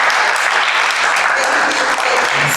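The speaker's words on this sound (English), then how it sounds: "Can we just clap for our panelists?" A live audience at a university career panel on entertainment production and performance applauds its panelists, a dense, steady wash of many hands clapping at full volume throughout.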